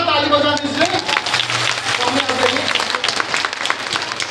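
Applause from an audience at an Easter celebration at St. Theresa, steady clapping from many hands with a voice speaking over the start, then continuous mid-level clapping to the end.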